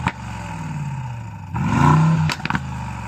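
A Mercedes GLE63 SUV engine barking into a sharp rev that climbs and falls, followed by a couple of quick throttle blips, loud and close with no talking.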